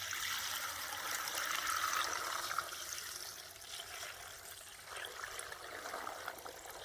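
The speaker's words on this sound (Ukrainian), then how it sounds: "нашу сіль та цукор і заливаємо наші томатики" Brine of dissolved salt and sugar poured over tomatoes in a pot for fermenting, a steady soft splashing trickle that eases slightly partway through, quiet and close with no talk.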